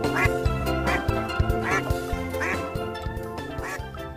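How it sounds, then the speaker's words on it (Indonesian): A toy duck quacks in a steady rhythm of about eight quacks over a musical backing, loud and close, with no talking. "Wadidaw, ini ada bebek."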